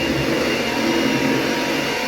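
An electric mixer beats carnivore cornbread batter at a Meatstock event, a loud, steady, close motor whir that holds unchanged throughout without speech.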